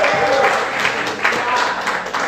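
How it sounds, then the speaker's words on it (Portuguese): A church congregation applauds, a steady wash of many hands clapping at moderate volume, dense and sustained for a couple of seconds. "Você pode aplaudir o Senhor, aleluia."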